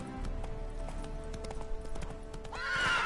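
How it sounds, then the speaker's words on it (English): In The Witcher 3 video game, a horse's hooves clip-clop in a steady rhythm, close and clear, with hum and game ambience underneath. A neigh rises at the end. "Whoa there, Roach."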